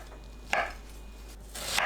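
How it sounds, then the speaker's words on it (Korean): A knife cuts leftover jeon, Korean pan-fried pancakes, into bite-size pieces on a board, giving two distinct close chopping thunks about a second apart against a faint low hum. "전을 한 입 크기로 썰어줍니다."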